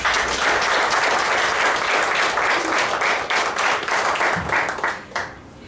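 Audience applause greets Dr. Gilberto Recinos at a spiritism lecture anniversary event in Guatemala, steady dense clapping from a crowd that holds for several seconds and then thins out at the end.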